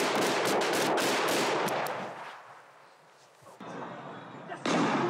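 A rapid burst of sharp gunshots cracks out at close range in a housing estate, then fades into a quieter stretch broken by a couple of distant bangs.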